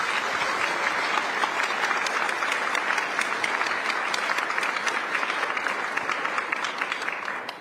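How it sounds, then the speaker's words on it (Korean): Loud sustained applause from a welcoming crowd greeting the Korean president and first lady at a community gathering in San Francisco, dense even clapping filling the room for several seconds before tapering off. "대통령님과 여사님께 뜨거운 환영과 감사 박수 부탁드리겠습니다"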